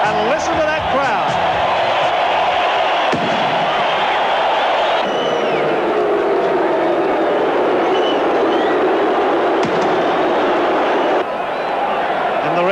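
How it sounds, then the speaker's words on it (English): A packed rugby league stadium crowd at a State of Origin match keeps up a dense, continuous roar, with a commentator talking over it. "listen to that crowd"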